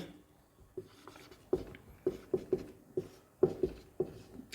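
Chalk or pen tapping and scratching in short strokes during a Class 10 maths lesson, about a dozen quiet, irregular clicks close by with no talk.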